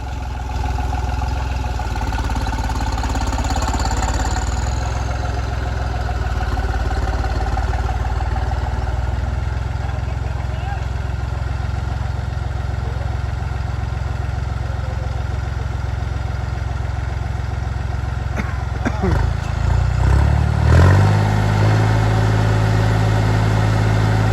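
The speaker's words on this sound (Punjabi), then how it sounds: "ਟਰੈਕਟਰ ਦਾ ਫੁੱਲ ਜ਼ੋਰ ਮਾਰਦਾ" A modified 3630 tractor engine works hard at full power with its wheels slipping, holding a loud, steady low rumble for a long stretch before a rougher surge and a change in pitch near the end.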